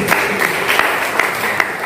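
A church congregation applauds, a dense, continuous wash of clapping from many hands with a few louder claps standing out.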